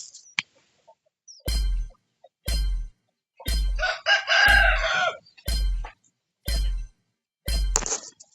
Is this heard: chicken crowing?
yes